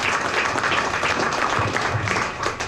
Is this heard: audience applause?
yes